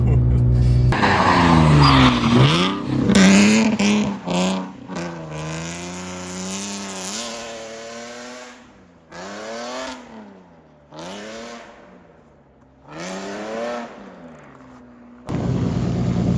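A stock Lexus IS300 with tires pumped to about 40 psi drifts on dry pavement, its engine revving and rear tires squealing in long wavering howls, with bursts of throttle, brief lulls, and a final surge.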